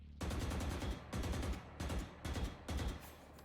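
Five bursts of rapid automatic gunfire in a video game, each lasting under a second, separated by short pauses, loud and close.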